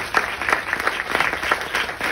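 An audience at a documentary screening Q&A applauds, a steady crackle of many hands clapping with a few sharper individual claps standing out near the front.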